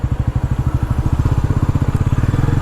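A 2024 Bajaj Pulsar NS400Z motorcycle engine and exhaust running close by, a loud, steady, bass-heavy pulsing thrum with an even, rapid beat that quickens slightly as the revs rise.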